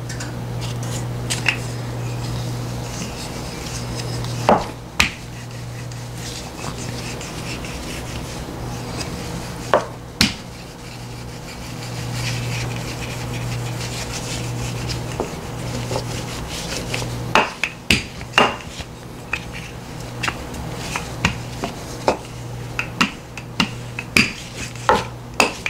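A rolling pin works biscuit dough flat for sweet potato mini pies, giving steady soft rubbing and scraping broken by occasional sharp wooden knocks over a low background hum.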